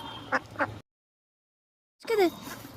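Domestic ducks quack in a short burst of a few loud nasal calls near the end, after two brief soft sounds and a pause of silence.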